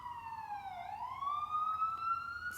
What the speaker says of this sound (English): Sorry about the sirens going on.